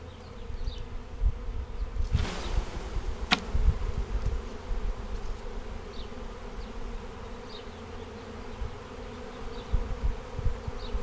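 A swarm of honeybees hums in a steady, dense drone, with individual bees zipping past the microphone now and then and a couple of sharp knocks nearby, all heard outdoors without speech.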